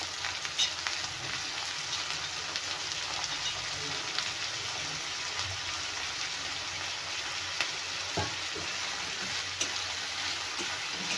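Green and purple eggplant pieces frying in oil in a pan, giving a steady, moderately quiet sizzle throughout with faint scattered crackles and no talking.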